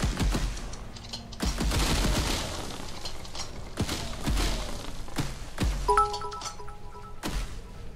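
Gunfire in the Ghost Town Mine Ride & Shootin' Gallery game, a series of loud, separate shots and thuds spaced a second or so apart, with brief chiming tones near the end.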